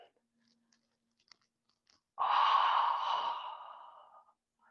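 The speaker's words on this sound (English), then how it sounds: "Last squeeze, pushing all the air out." A long, deep exhale during a qigong breathing exercise pushes all the air out in one sustained breathy rush lasting about two seconds after a quiet pause, close to the microphone.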